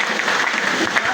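A brief burst of dense, steady clapping from a gathered audience at a life celebration event, loud and close, with voices faintly mixed in.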